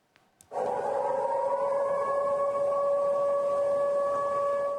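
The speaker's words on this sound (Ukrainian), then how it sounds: "Звуки повітряної тривоги розривають небо над Саратовською областю." After a brief click, a loud steady air raid siren wail sets in and holds at an even pitch, droning continuously without pause, in Saratov Oblast.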